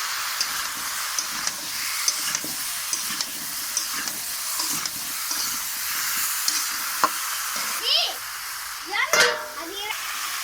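Spice-rinse water from a grinding stone poured into a hot pan of frying potatoes, giving a steady loud sizzle and hiss with stirring scrapes throughout and a couple of sharper bursts near the end.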